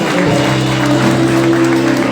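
A church congregation claps through a worship service, a steady, dense patter running the whole short stretch. A sustained musical tone, likely a keyboard, hums underneath it.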